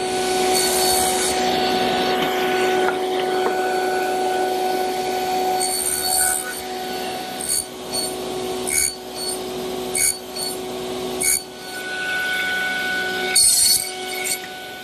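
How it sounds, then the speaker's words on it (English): A table saw cuts 90-degree tenons on a short wooden stretcher: a steady motor whine carries a series of short, uneven cutting bursts, close up, with no talk. "I can do that all at the table saw."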